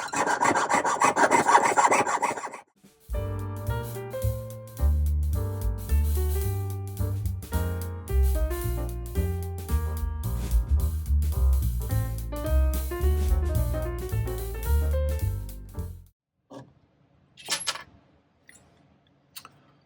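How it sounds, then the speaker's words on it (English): Rough rasping strokes at first, then a fine jeweler's saw rasps in quick rhythmic strokes through metal, close by, ending with a few light taps. "let's see how we're doing on sawing tonight."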